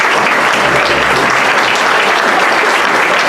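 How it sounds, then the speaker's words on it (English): Dense, steady applause from a sizable audience at a candidate forum fills the space, loud and continuous from start to finish. "we should give them a round of applause and send them on their way."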